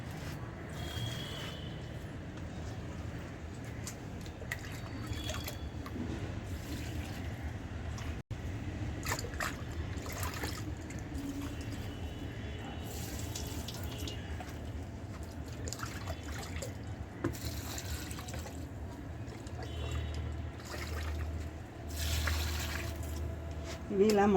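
Diluted solution poured from a mug onto potted rose plants makes a gentle trickling, splashing flow that runs quietly through most of the stretch, with faint background noise and occasional soft knocks.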